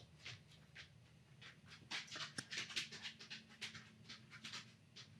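Soft, rapid dog panting close by, a steady rhythm of quick breaths over a quiet low hum, no talking.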